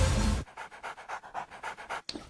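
A dog pants close by in quick, even bursts, rhythmic breathy puffs following a brief loud burst at the start, with no talking.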